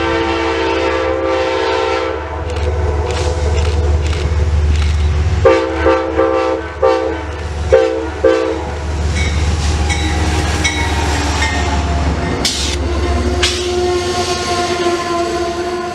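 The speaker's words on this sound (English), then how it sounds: "The friendly engineer gave us a nice shave and a haircut horn show as it entered the station" An Amtrak train sounds its horn in a rhythmic shave-and-a-haircut pattern as it rolls into a station, loud and close, with short blasts over the rumble and clatter of the passing cars.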